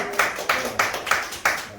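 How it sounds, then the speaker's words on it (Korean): Brief applause at a Korean lecture forum on whole-person education: a short run of rhythmic, evenly spaced claps, fairly loud and close, about five beats in under two seconds. "다시 큰 박수 부탁드립니다"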